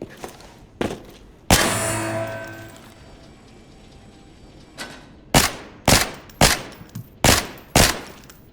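Gunfire from an AN-94 rifle in two-round burst mode in the shooter game Arena Breakout: Infinite: one loud report with a long echoing tail, then a quick run of sharp, close bursts alone on a range.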